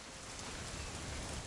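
Steady rain falling throughout a weekend hunting trip in the game What Remains of Edith Finch, a soft, even wash of droplets holding a constant low level with no voices over it.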